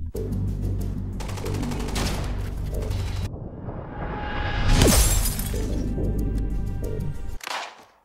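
Gunfire in the mobile shooter Arena Breakout: a sustained burst of loud, rapid automatic shots, a short pause, then a sharp shattering crack followed by another long stretch of repeated close-range firing that cuts off abruptly.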